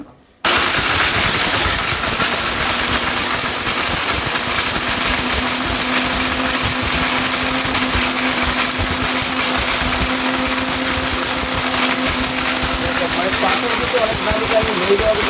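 A mini blender grinds hard, stone-like turmeric in a loud, steady motor whine that runs almost without pause. It starts abruptly after a brief quiet moment. A voice talks over it.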